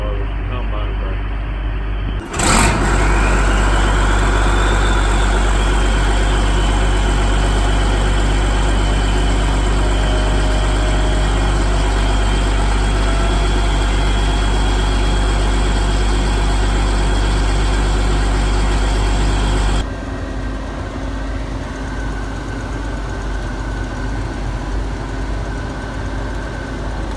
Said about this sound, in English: That's step number one toward a good corn harvest, combine crank.